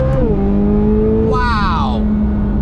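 A 2023 Chevrolet Corvette Z06 engine revs in steady, climbing tones, loud and close, with a brief higher whine midway; a voice talks over part of it.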